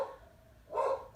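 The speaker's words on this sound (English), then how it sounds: "that's my dog barking." A dog gives two short barks indoors, slightly muffled and moderately faint, with a brief pause between them.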